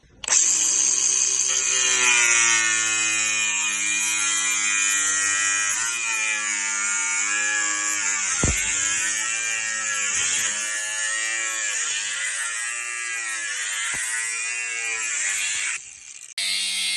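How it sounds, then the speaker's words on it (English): An angle grinder cuts through metal oil tank fire protection with a loud, sustained high-pitched whine that drifts in pitch under load, running continuously before a brief drop and restart near the end, with no talk. "I've got the angle grinder obviously, and I've cut both sides."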